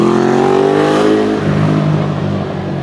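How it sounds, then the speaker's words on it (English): A Ducati motorcycle passing close by near a bakery, a loud engine roar with falling pitch as it goes past, the drone easing off as it moves away, with no voices. "we got a Ducati coming past as well."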